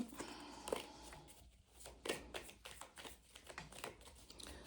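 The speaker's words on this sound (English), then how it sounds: "Let me get a good shuffle in for you guys first." Tarot cards being shuffled by hand, a rapid series of soft papery riffles and taps close by, with uneven bursts and short pauses and no talk over them.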